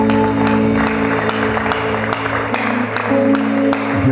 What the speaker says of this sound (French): Acclamez encore très fort, ça fait du bien.